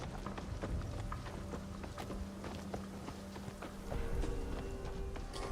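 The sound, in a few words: horse hooves in Assassin's Creed Shadows video game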